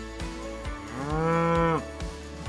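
Dairy cows in a barn, one long, loud, close moo rising and holding before cutting off, set against a regular clanking rhythm of barn equipment before and after.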